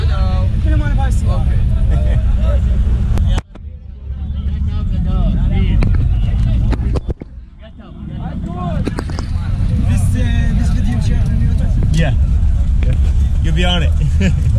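An SUV packed with passengers on the road to Kirkuk, its steady engine and road rumble filling the cabin, broken by two brief dips as if doors or windows shift, with wind noise and people talking inside.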